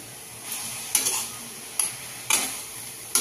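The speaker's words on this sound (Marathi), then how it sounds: "मीठ टाकलं की परत हलवून घ्यायची" Amaranth greens stirred in a pan after salt goes in, a soft constant sizzle broken by four spaced scraping strokes of a spoon against the metal, close up and with no voices.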